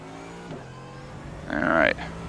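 GT3 race car in iRacing racing at Spa, a steady engine drone with a louder, rising rev surge near the end, close and alone with no talk.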